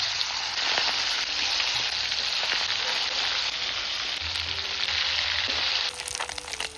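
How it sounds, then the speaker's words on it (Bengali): Pomfret fish frying in mustard oil in a kadai: a loud, dense, continuous sizzle that holds steady throughout and eases slightly just before the end. "কড়াইয়ে দিয়ে দিচ্ছি সর্ষের তেল। প্রথমে পমফ্লেট মাছটা ভেজে নেব।"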